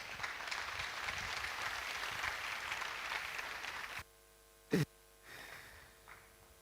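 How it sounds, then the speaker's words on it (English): Audience applause for a panelist at a university technology week event, a steady burst of clapping lasting about four seconds before cutting off, followed by a brief loud knock and faint room noise. "So, Mr. Kojo Bajman, Honorable, please, a round of applause."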